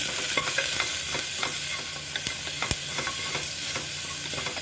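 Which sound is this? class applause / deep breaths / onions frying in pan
onions frying in pan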